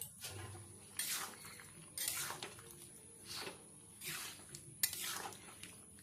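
Vegetable curry of pointed gourd, potato and pumpkin being stirred with sugar in a wok, faint repeated scraping strokes of a utensil against the pan at roughly one-second intervals over a low sizzle.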